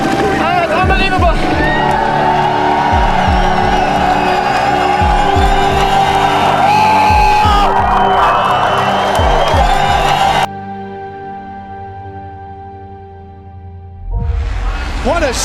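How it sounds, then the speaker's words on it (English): A stadium crowd cheers and roars at the Anaheim supercross race, with loud, sustained massed voices and motorbike engine drone over the first ten seconds, then a quieter stretch before the noise surges back. "The crowd on its feet cheering"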